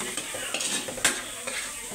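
Pinakbet of vegetables, tomato and meat cooking in a pan, with a spoon scraping and stirring over a low sizzle in repeated close strokes, no voices.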